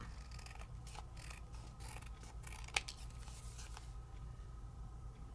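Scissors make a few faint, sharp snips while cutting craft materials, with one crisp click standing out over a steady low background hum.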